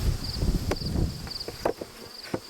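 Honeybees in nuc boxes buzz in a close, steady drone, with intermittent knocks and handling noises from the hive frames.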